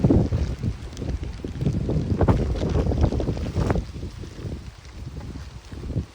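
Strong, gusty wind buffets the microphone on a misty mountain trail at Agasthyarkoodam, roaring loudly at first and through the middle, then easing somewhat toward the end.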